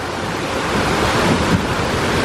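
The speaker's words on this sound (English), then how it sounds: "See, gonna have a big splash." Water rushes and splashes around a boat on the Old Mill water ride at Kennywood amusement park, a loud, steady surging wash heard up close with rumbling wind noise.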